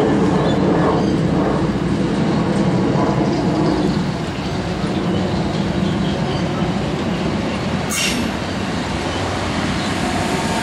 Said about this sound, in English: And the commuter trains have resumed. This is the Gawler line.